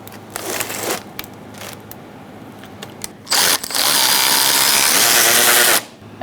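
A socket tool removes 10mm radiator fan bolts on a Subaru Forester: brief buzzing bursts of a power driver spin up early, then a loud continuous whirring run lasts about two and a half seconds before stopping abruptly.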